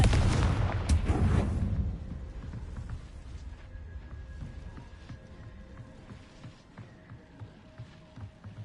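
The Confringo blasting spell in Hogwarts Legacy explodes in a loud, heavy boom at the start, then its rumble decays into a lower crackling tail with scattered softer impacts and faint tonal game effects.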